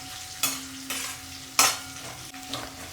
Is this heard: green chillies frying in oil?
yes